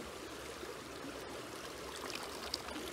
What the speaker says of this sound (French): Donc là je vais remplir un peu plus mon pan. Et donc là en gros je vais verser l'eau